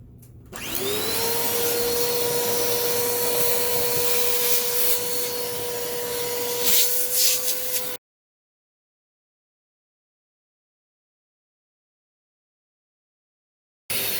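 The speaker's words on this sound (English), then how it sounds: "Alright, and then I'll vacuum the rest." A vacuum cleaner whines loudly and steadily for several seconds, with scraping and rubbing as the nozzle sucks lint from a Kenmore clothes dryer, then cuts off into silence.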